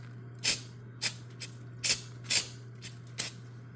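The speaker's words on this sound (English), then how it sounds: "I'm going to spray this off with a little bit of brake cleaner" Short hissing bursts from a brake cleaner aerosol can on a Moto Guzzi V7 850 Special during an oil change, about seven quick sprays at uneven intervals over a low steady hum, close by and sharp.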